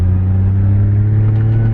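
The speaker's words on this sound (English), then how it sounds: "Going for an upshift there, we are." An E36 drift car fitted with an S62 V8 roars loudly and steadily at high revs, with a deep, constant drone and no talking throughout this short stretch.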